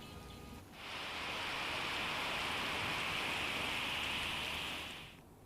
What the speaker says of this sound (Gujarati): ધોધમાર વરસાદી માહોલ છવાયો છે